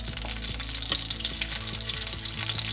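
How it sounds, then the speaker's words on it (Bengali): A whole dried chili, a bay leaf and cumin seeds tempering in hot oil for a Bengali cauliflower and tangra fish curry, giving a loud continuous hiss and crackle close by, with no voices. "একটা গোটা শুকনো লঙ্কা, আর কিছুটা জিরে আমি ফোড়ন দেব।"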